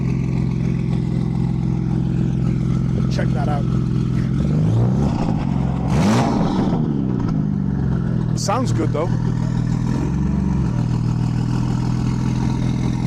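A BMW M2 with a stacked aftermarket exhaust idles with a deep rumble and gives a couple of sharp revs at a car meet, heard close, while people talk over it.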